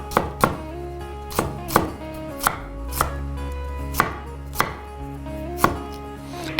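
A knife chops ginger and chillies on a cutting board in a home kitchen, giving about a dozen sharp, evenly paced thuds with a low hum underneath. No one talks while the chopping goes on.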